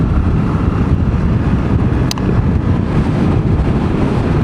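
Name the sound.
strong gusty wind buffeting on the coast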